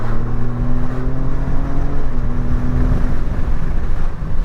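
A truck fitted with a loud aftermarket exhaust drives along in low gears, its engine droning steadily with a deep, rumbling tone and harmonic hum throughout, close and loud, with no talking.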